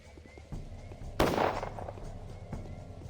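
A single sharp, loud gunshot from the video game Pathologic cracks out over quiet in-game ambience, with a brief decaying tail and a couple of faint thuds before and after.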